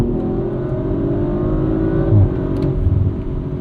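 A 2023 Audi RS5 Competition with a twin-turbo V6 accelerating, a loud, steady low engine drone from inside the cabin rising in pitch, with a brief surge near the end.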